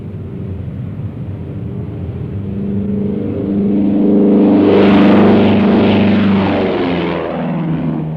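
A small propeller plane's engine swells to a loud, buzzing roar as it takes off, speeding up and passing close, then eases slightly.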